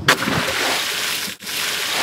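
A wooden single bed frame dropped into water makes a loud, rushing splash that sloshes on for about two seconds, with a brief dip partway through.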